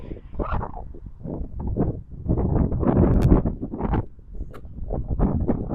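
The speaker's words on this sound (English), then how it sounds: "And it's really windy out too, so this sucks." Strong wind gusts across an outdoor golf course, a continuous low buffeting roar on the microphone that swells and dips throughout, with no talking.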